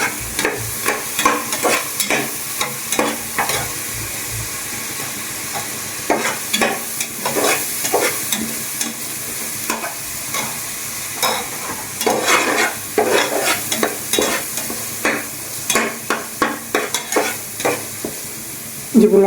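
Chopped green chillies frying in a pan, stirred with repeated rhythmic scraping strokes over a continuous close, loud sizzle.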